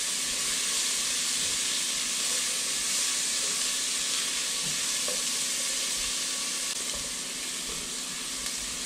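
Jalapeños, onion and garlic sizzle steadily in a hot pan for a soup base, a dense, close hissing fry that holds constant throughout with faint stirring scrapes and no talking.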